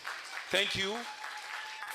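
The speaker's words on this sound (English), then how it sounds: "I think he deserves another big round of applause." A lecture audience at a Nigerian independence anniversary event claps softly for the event's convener, a low wash of applause under a man's brief spoken thanks.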